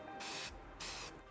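Two bursts of spray painting on car parts for an engine bay, each a steady broad hiss lasting about a third of a second with a short pause between, close and fairly quiet.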